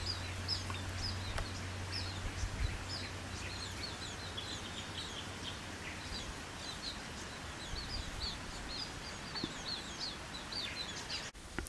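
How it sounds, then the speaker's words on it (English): Black-and-white mannikins call in Karura Forest, a run of short, high chirps repeating through the recording at moderate distance over a steady forest hush, with no voices. "Black and white mannequin."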